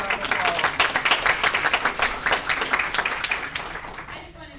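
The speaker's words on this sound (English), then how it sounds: "give her a round of applause." A room at a school district board meeting breaks into a round of applause, many hands clapping steadily and fairly close for several seconds before the clapping thins and tapers off at the end.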